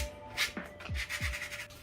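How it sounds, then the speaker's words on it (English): Short rhythmic rubbing strokes of sanding wood, close and fairly quiet, repeating in quick back-and-forth passes with a faint steady hum beneath. "now she's sanding"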